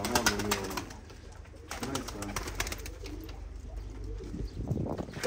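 Pigeons coo and flutter in a coop, low soft calls repeating through the clip with some rustling and distant background noise, fairly close and moderately loud.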